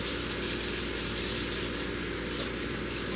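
Hot water runs steadily from a tap while painted frame parts are washed, a constant close hiss and gush of flowing water without pause.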